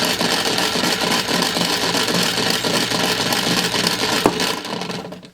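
A toy sewing machine's small motor whirs and rattles continuously at close range, a steady mechanical chatter with one sharp click before it winds down.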